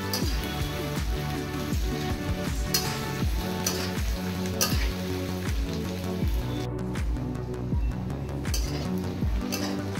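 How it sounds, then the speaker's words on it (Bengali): Chopped onions fry in a pan with a steady, dense sizzle and crackle that runs throughout, broken by occasional scrapes and knocks of stirring, close and even in loudness, no voices. "এবার পেঁয়াজগুলো একটু আমি ভালো করে ফ্রাই করে নেব।"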